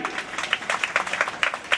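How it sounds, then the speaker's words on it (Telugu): Scattered hand claps from a small group at a puja in a village temple, brief and uneven, with chanting faintly behind. "చప్పట్లు గట్టిగా కొట్టాలని మనవి"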